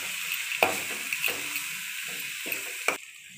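Vegetables for vegetable cutlets sizzle steadily in a hot pan while a spoon scrapes and stirs in a few distinct strokes, close up.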